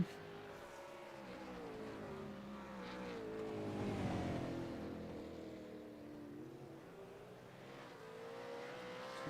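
A race car engine drones steadily through a lap at an invitational event, pitch rising and falling through gear changes and corners, moderately distant with a swell of louder roar midway.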